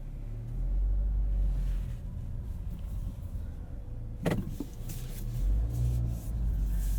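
A 2022 Honda Civic Sport Hatchback Touring with CVT drives at night, a steady low road and engine rumble inside the cabin, briefly broken midway by a sharp mechanical whir like a power window or door, then the rumble resumes.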